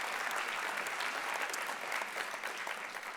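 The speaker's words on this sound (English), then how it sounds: "An applause for you." An audience at an awards ceremony breaks into sustained applause, a steady, moderately distant patter of many hands clapping throughout without speech.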